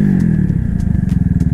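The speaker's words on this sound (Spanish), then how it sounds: "me gusta cómo frena esta 250Z. Vamos a intentarlo una vez más a 40." An Italika 250Z motorcycle brakes from 40 km/h, its engine note dropping into a close, loud, rapid putter that slows as the bike comes to a stop, with no one speaking.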